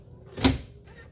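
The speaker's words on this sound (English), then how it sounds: "So I'll open up the tape door." The tape door of an RCA CC547 VHS camcorder swings open with a single brief mechanical clack and soft rustle, close up in a quiet room.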